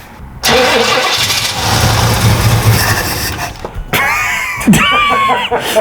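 The engine of a 1967 Jeepster cranks and fires without starting fluid, a loud sustained churning turnover that stumbles and catches, followed by rough, uneven revs and clatter close by.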